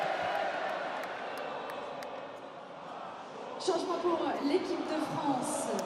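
A raucous crowd at a France vs Wales U20 rugby match sends up a low, distant murmur that swells suddenly into louder cheering and shouts partway through.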